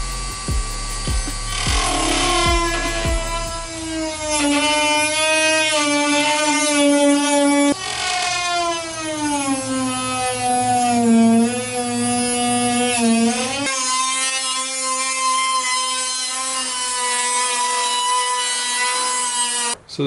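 Harsh, continuous power-tool cutting through a piece being trimmed, whining pitch rising and falling with load over about twenty seconds, loud and close without pauses.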